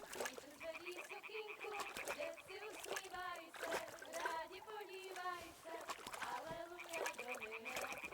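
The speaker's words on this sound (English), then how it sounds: "Throw a stone in the water near her to lure her away." A stone thrown into water in Kingdom Come Deliverance 2 lands with a short splash amid a busy game scene with frogs croaking, while voices talk throughout.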